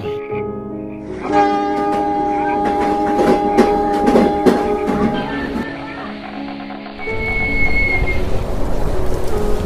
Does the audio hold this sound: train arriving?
yes